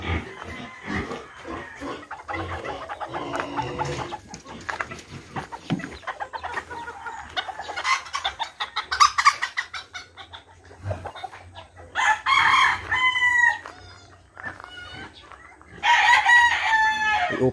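Hens cluck and chatter in a farmyard where chickens and pigs are kept, with grunting and clatter early on. Loud rooster crows ring out near the middle and again toward the end, close to the recorder.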